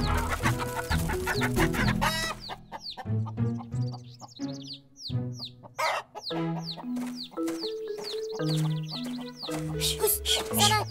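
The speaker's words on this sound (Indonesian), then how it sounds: "Awas Tit, ada ayam" Chickens clucking and a rooster crowing nearby, with bird chirps scattered throughout the scene.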